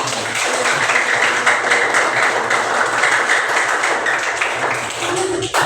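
Pupils in a classroom clap together at the end of a lesson, a busy patter of small hands with some voices mixed in, holding steady for several seconds.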